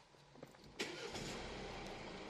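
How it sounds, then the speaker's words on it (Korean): A 2017 Mercedes-Benz E-Class 4MATIC starts up: a short starter crank and catch, then the engine settles into a steady, smooth idle heard close by, with no talk. "이 차량 이제 바로 시동 한번 걸어보도록 할게요."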